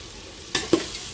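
Pepper powder gets stirred into a pan of frying pulao made with coconut milk, with a soft steady sizzle and a couple of brief scraping strokes.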